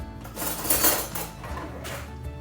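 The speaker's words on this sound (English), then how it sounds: "we just stir that around and just frying that salt and black pepper" A spoon scrapes and clinks against a pan, with a continuous sizzle of vegetables frying with salt and black pepper underneath; metallic stirring strokes come close and fairly loud.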